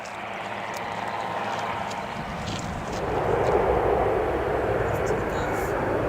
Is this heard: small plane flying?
yes